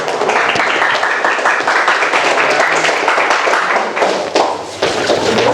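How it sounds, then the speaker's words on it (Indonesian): A classroom of students claps for a presenting group, a loud, steady burst of hand claps that carries on for several seconds with no pause. "Tepuk tangan untuk kelompok 3"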